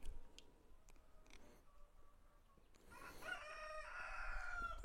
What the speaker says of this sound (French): J'espère que vous entendez le coq.